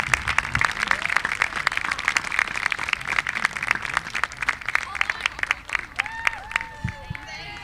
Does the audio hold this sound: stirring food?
no